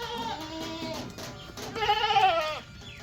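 Goats in a Pakistani village bleat while being untied from their ropes, several wavering, nasal calls overlapping close by, the loudest burst coming near the end over soft background noise.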